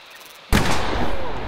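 A single loud gunshot in the horror game The Quarry, a sharp sudden crack followed by a booming, reverberant tail that fills the rest of the moment.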